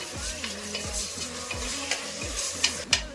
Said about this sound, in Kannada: ಟೊಮೆಟೊ ಮೆತ್ತಗಾಗಂಗೆ ಫ್ರೈ ಮಾಡ್ಕೋಬೇಕು.